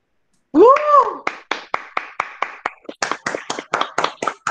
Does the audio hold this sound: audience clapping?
yes